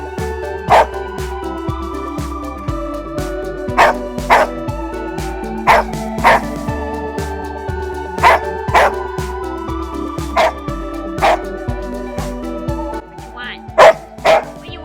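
A Samoyed dog makes repeated yips, whines and talking-like vocal noises in irregular bursts, close by, over a steady musical background.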